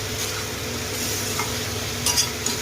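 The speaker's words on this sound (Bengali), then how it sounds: "এবার এটাকে ভালো করে কষিয়ে নেবো" Young jackfruit curry with sugar being sautéed in a pan, a steady close sizzle with stirring scrapes and a brief louder clink near the end.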